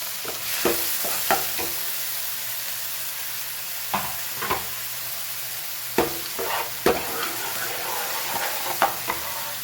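Onions frying in oil over a low flame for pav bhaji, a steady sizzle broken by repeated sharp clatters of a spatula stirring in the pan, close and fairly loud.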